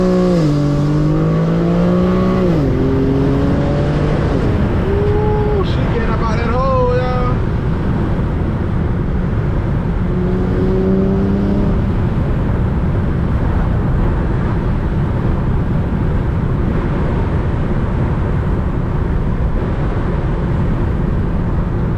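A rear-wheel-drive Infiniti G37 accelerates hard along tight backroads, its engine rising in pitch through gear changes in the first seconds. Heavy wind roar then buries the engine for most of the stretch, heard from inside the cabin.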